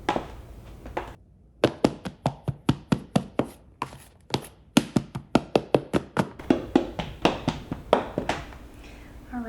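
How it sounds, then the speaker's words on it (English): A metal bench scraper chops flour into butter on a work surface for sourdough cinnamon roll dough, a rapid run of sharp, close taps at an even rhythm, briefly pausing before resuming with no voices. "And I am going to use my bench scraper here, and I'm just going to cut the flour"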